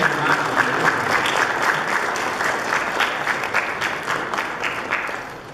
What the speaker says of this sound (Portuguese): nós damos uma salva de palmas a essa família